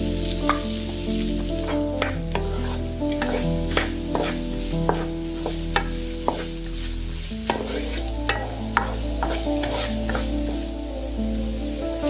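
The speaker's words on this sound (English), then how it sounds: "Add the diced carrot and give it a quick stir." Diced carrot hits a hot wok for Yang Chow fried rice and is quickly stirred, a steady sizzle broken by sharp scraping and clinking strokes of a spatula at a brisk, uneven pace, with a low tonal hum underneath.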